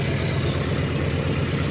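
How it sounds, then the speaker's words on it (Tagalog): A Toyota Innova engine idles loudly with no silencer fitted and a misfire, a harsh, steady rumble that fills the whole stretch without pause. "So maingay ito mga kalyabe. Tandaan natin, kaya maingay yan kasi wala yang silencer."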